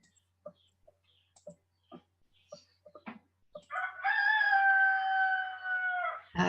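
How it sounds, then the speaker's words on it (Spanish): A rooster crows once in a long, sustained call that rises and holds before fading, preceded by faint scattered clucks and small noises in a quiet setting. "qué bueno el gallo ese que está cantando"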